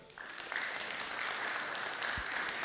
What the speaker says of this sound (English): So give friends also a big applause.